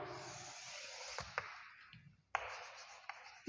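A marker squeaks and scrapes across a board in two long continuous strokes broken by a short pause and small taps during a maths lesson.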